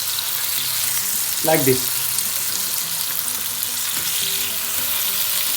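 Steady sizzling of tomatoes frying in a pan, with a brief spoken phrase and a clatter of utensils partway through.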